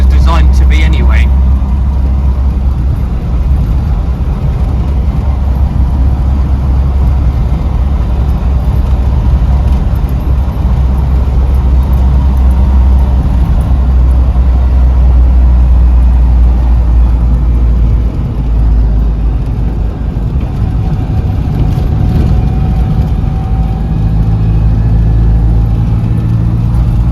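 A Land Rover Defender drives along bumpy country back roads, its engine a constant loud low drone with road rumble throughout and a voice talking over it.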